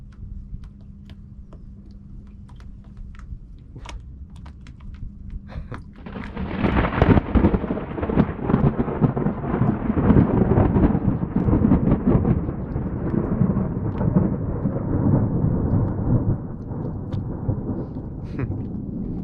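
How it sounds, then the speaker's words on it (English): Heavy rain roars steadily after a sharp burst of thunder, with rumbling continuing beneath the downpour throughout. "In case anybody didn't know that rain was coming, now they know."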